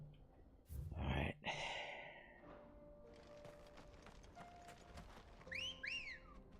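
A character whistles in the video game Final Fantasy XVI: near the end come two quick rising-falling wolf-whistle-like notes, after a breathy gust and faint sustained tones.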